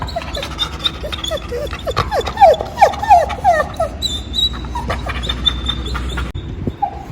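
A dog lets out a short series of high, thin whimpers mid-way, amid light household background noise.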